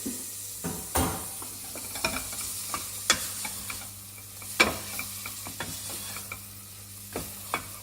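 Chilli and curry leaves frying in a pan, a soft steady sizzle broken by repeated sharp clicks and scrapes of stirring, close and fairly quiet with no talking.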